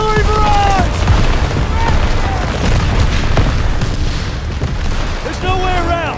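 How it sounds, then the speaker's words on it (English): Artillery barrage in Call of Duty WWII on the Hill 493 mission: heavy booming explosions roll continuously under shouting voices, with distant rumble and repeated loud blasts filling the scene. "Artillery barrage!"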